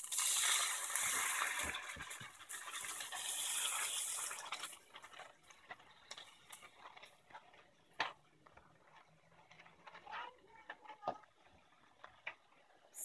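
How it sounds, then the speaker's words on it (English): Water poured into a pan of thick egg bhuna masala, oil separated from the spice gravy, giving a loud splashing, trickling rush for several seconds before settling into faint sizzles and scattered ticks. "So now I'm just going to add a little water in this."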